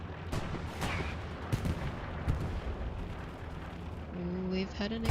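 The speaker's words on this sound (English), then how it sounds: "we've had an explosion" Explosions and gunfire in the World War II shooter Hell Let Loose, a series of sharp booms and cracks over rumbling battle noise, with a voice talking throughout.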